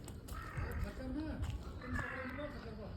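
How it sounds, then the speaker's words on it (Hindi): A crow caws near a household Diwali celebration, its harsh calls mixed with voices and background activity throughout the short stretch. "उधर है कौवा"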